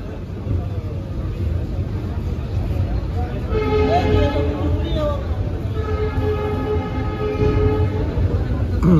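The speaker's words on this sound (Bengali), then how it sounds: "ট্রেন ছেড়ে দিয়েছে" Continuous rumble of a train rolling along the tracks, with a horn-like tone sounding twice midway and voices faintly underneath.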